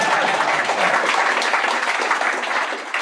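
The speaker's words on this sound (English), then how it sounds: "Give him a round of applause." Dense, steady applause from a conference audience at a nomad business summit in Chiang Mai, loud and continuous throughout, with no voices breaking through.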